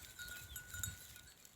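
Goats and sheep bleat faintly in an outdoor village setting, with a few soft, short calls rising over low ambient noise.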